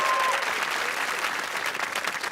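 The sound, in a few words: studio audience applause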